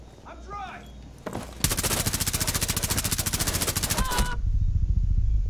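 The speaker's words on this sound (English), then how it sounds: "They're shooting at me" Sustained rapid automatic gunfire in the Rainbow Six Siege bank bomb mode, a loud close burst of several seconds preceded by a few scattered shots and a brief voice.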